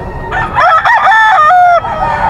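A gamefowl bullstag crows loudly and close by at a gamefarm. One full cock-a-doodle-doo rises and holds before tailing off, with faint background noise around it.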